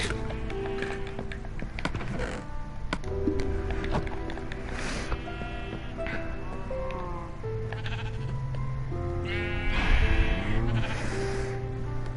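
Minecraft sheep bleat repeatedly over a busy, layered background of game sound effects and chimes, several animals calling in overlapping bursts.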